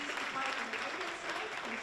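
Audience applause after a Boris Johnson speech, a sustained, even round of clapping from a crowd with a voice talking over it throughout.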